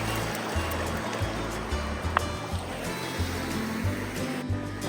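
The Sespe River rushes steadily through the mountains of Ventura County in Los Padres National Forest, a dense, continuous wash of flowing water with a low rumble and no clear pauses.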